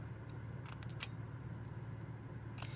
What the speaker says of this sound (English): This one needs to be trimmed a wee bit more.